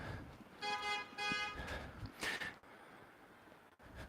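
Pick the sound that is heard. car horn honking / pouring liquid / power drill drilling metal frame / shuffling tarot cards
car horn honking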